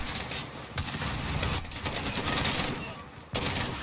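Gunfire in the Call of Duty Modern Warfare campaign: dense, continuous crackling shots with a few sharper bursts standing out, loud and close, with faint voices mixed in.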